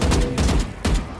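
Gunfire from a skinned Judge shotgun in Valorant, a video game: several loud, sharp booming blasts in quick succession, each with a short ringing tail, heard alone with no talk.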